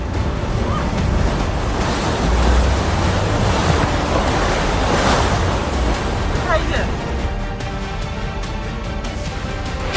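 Flood water in a waterlogged housing society, a continuous rushing, wave-like wash with wind buffeting the microphone and a voice faintly beneath.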